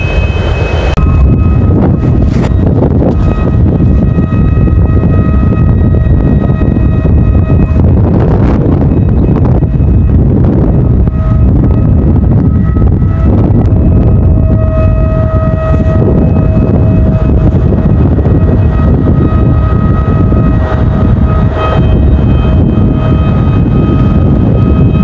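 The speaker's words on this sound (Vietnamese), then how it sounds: "Tối rồi, gió vẫn vi vu các bạn ạ." Strong evening wind roars steadily into the microphone outdoors while a large bird-shaped kite with flutes hums overhead, its sustained whistling tones drifting in and out above the constant rumbling gusts for the whole stretch.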